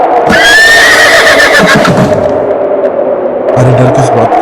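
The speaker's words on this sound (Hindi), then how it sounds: "घोड़ी अजीब सा हिनहिनाती है।" A mare lets out a loud, wavering, eerie whinny up close, shrill and drawn out, followed by a shorter snorting whinny, as a horror-story sound effect.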